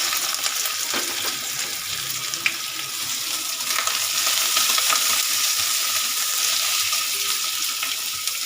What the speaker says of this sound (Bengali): চলো পেঁয়াজটা একটু আমি ভেজে নিই।